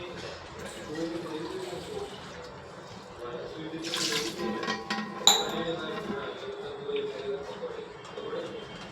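Water is poured from a glass into a pressure cooker heating on a stove, a gentle running splash with a sharp metallic clink partway through, set against quiet kitchen background sound.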